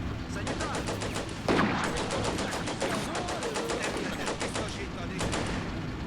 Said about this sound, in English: And the mortar is firing again.